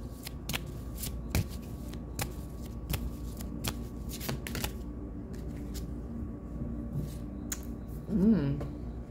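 Astrological oracle cards being shuffled by hand in a series of crisp riffling slaps and flicks, close and fairly quiet, with a brief voice near the end.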